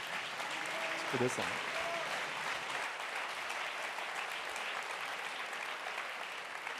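Sustained applause from a crowd at a Geneva sports awards night fills the space, steady and even throughout, with a short spoken remark in French near the start.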